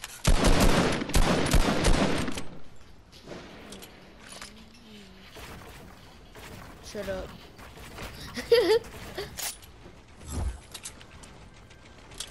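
Gunfire rips out in an online shooter video game, a dense loud burst of shots up front followed by scattered clicks, thuds and a few later reports, with players talking over it.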